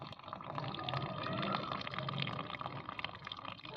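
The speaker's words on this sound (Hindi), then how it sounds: "पानी भी इसमें थोड़ा कम अपने आप भी चल रहा है" Water trickles weakly from a low rooftop tank feeding a terrace garden, a quiet continuous splashing and gurgling with no voices over it.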